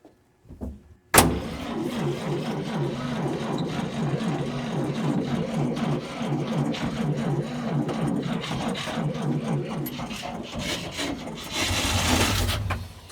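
A 1947 International truck engine turns over on its starter in one long, steady, loud grinding crank lasting about eleven seconds, with a rough chugging pulse and a heavier surge near the end as it tries to catch.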